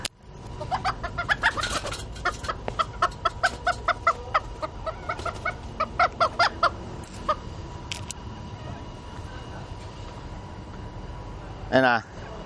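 A bantam chicken clucks close by in a quick, rhythmic series of sharp clucks that slows and fades, then gives one louder squawk near the end over outdoor background noise.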